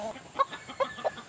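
Hatch Gray gamefowl chicken calling in short, separate clucking bursts, about four of them spaced irregularly, moderately close over a quiet background.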